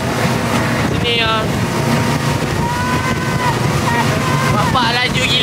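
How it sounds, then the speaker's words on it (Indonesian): Strong wind buffets the microphone during a fast boat ride on a lake, a constant loud roar with engine rumble beneath and excited voices shouting over it. "Eh, angin."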